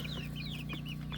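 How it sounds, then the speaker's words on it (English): A Brahma rooster calls with a short series of rising, clucking cries over a steady low hum, close and fairly clear on a homestead. "That's my big favorite rooster."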